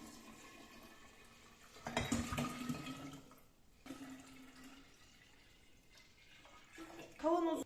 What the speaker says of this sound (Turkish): oda sıcaklığındaki 2 litre suyu demlenmiş çayımın üzerine ekliyorum